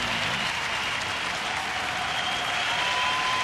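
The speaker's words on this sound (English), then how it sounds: "Big, nice round of applause for our young 26-year-old southpaw as he pitched well tonight." Sustained crowd applause fills a baseball stadium at night after a 26-year-old left-handed pitcher's final start, a steady dense wash of clapping that holds at an even level throughout with no talk over it.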